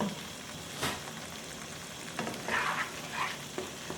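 Fenugreek and tomato masala frying in oil in a pan, a faint steady sizzle with soft stirring scrapes now and then.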